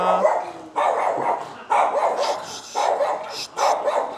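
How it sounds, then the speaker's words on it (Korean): A dog barks repeatedly at close range at a tire shop during a winter tire change on a Tesla Model Y, several loud bursts with short pauses between them. "여기 되게 멍멍이 소리가 많이 나죠? 여기 멍멍이가 있어요"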